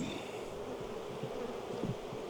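Honey bees buzz steadily around a 10-frame hive box at an apiary, a dense close drone with no talk.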